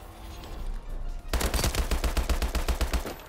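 Rapid automatic fire from the HBR rifle in Advanced Warfare, a fast even string of around twenty loud close shots starting abruptly after a low ambient hum, with no talk.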